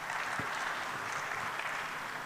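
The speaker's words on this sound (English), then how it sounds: "Please, a round of applause to him." An audience at an infrastructure forum in Dar es Salaam applauds a speaker, a dense, even wash of clapping heard at a distance in a large hall, steady throughout and without talk.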